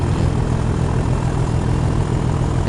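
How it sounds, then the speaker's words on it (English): A train engine powers up in the Train Sim World 2 video game, giving a constant deep droning rumble that holds steady and loud throughout. "I love the sound of that engine."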